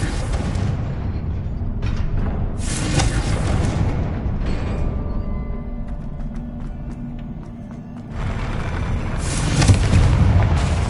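A Confringo blasting spell erupts in Hogwarts Legacy, a heavy booming explosion with a rumbling, crackling tail that swells again near the end, loud and close amid game sounds.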